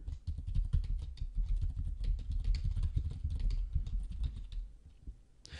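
Brisk, uneven keystrokes tap out a short to-do entry on a computer keyboard, close and fairly quiet, with no talking.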